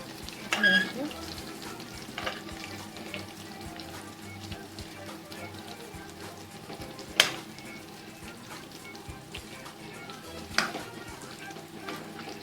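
Bitter gourd pieces fry in a pan under a soft, steady sizzle, with occasional clinks and scrapes as the slices are flipped, while a person talks throughout.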